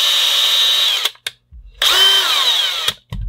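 A power drill bores holes for standoffs in a DIY case for two 18650 battery cells, whining loudly in two bursts separated by a short pause, with brief handling knocks in between.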